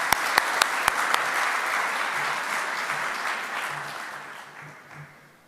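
Audience at a concrete-industry forum bursts into sustained clapping with a few sharp claps at the start, the applause holding steady and then fading out over several seconds.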